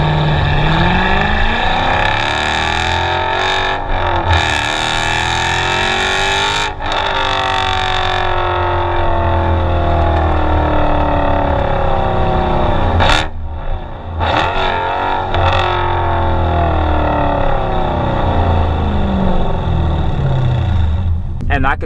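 Dodge Challenger Scat Pack with its muffler removed, driving at low speed. The exhaust gives a loud deep rumble that rises and falls through gear changes, with brief lifts, while someone talks over it.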